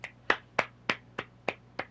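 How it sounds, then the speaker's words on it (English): Seven crisp hand claps at an even, unhurried pace, close and moderately loud against a quiet background with no talking. "I'm clapping for you."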